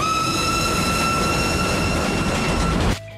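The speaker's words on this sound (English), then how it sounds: "A steam train then races across the screen" A steam train rumbles past loudly and steadily with a rushing, clattering roar and a high whistling tone, then cuts off abruptly.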